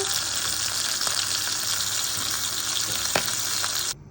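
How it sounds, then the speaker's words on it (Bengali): Fish frying in a pan makes a steady, loud sizzle with a few sharp crackles and pops, running without speech until it cuts off abruptly near the end. "এই দেখো বন্ধুরা মাছ রান্না করছি"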